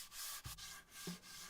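Hand sanding of old junk wood for a restored DVD rack gives soft, steady rubbing strokes, quiet and close, with no voices.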